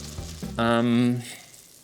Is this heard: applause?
no